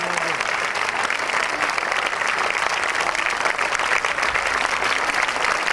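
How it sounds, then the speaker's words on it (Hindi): Loud, dense applause from a crowd at a school mathematics convention, steady and sustained throughout with no pauses. "जोरदार तालियां।"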